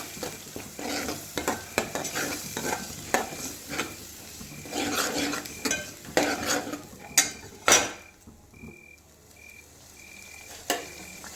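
A spoon scrapes and clatters around a frying pan as masala with tomato and chili paste is stirred in, over a steady sizzle; the stirring stops near the end, leaving a quieter fry with a few light knocks.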